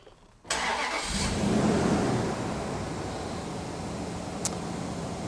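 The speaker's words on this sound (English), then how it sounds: "So I'm going to start the engine." A Chrysler car engine cranks and catches after a quiet start, then settles into a steady, fairly loud idle close by.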